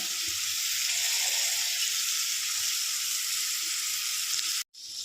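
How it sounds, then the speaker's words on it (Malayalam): Chopped shallots frying in hot oil for a jackfruit and jackfruit-seed curry, a loud continuous hiss and sizzle that holds steady before cutting off abruptly near the end, no talking. "ഇനി ചെറിയ ഉള്ളി അരിഞ്ഞു വെച്ചത് ഇട്ട് കൊടുക്കാം."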